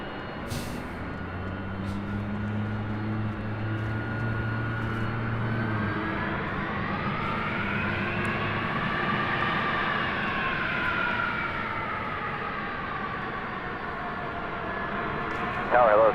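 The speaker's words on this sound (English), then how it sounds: "Just had an American Airlines flight 1997 coming from Dallas, Fort Worth, Texas, an A321 just flying over our heads." An American Airlines Airbus A321 arriving from Dallas–Fort Worth passes low overhead near LAX. Its steady jet roar swells, and its engine whine rises and then falls as it goes by, with a voice talking underneath.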